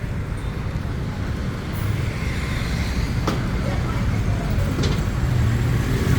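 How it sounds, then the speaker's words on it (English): Steady street traffic on Sukhumvit Soi 55 in Thong Lo, Bangkok, with lined-up motorcycle taxis, forms a continuous roadway rumble with passing engines and occasional faint clicks, and voices talking in the background. "These are all the motor taxis lined up, waiting to race their customers up the street."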